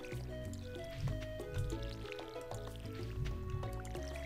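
A watering can soaks crops in Stardew Valley with soft, repeated watery splashes, heard faintly under steady background music.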